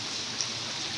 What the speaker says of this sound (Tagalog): Lakas talaga ng ulan